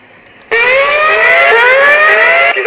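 An EMSTONE emergency bell siren plays through a loudspeaker at high volume, a loud wavering siren tone with a rising sweep that starts suddenly and runs for about two seconds, close to the microphone with no talk.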